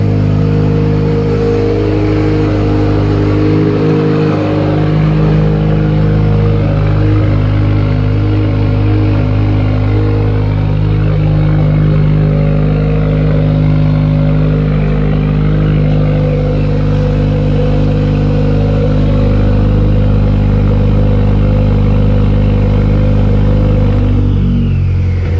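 A cold Subaru turbo car engine runs steadily on high idle for the whole stretch, a loud, close, continuous low rumble with a constant hum and no voices.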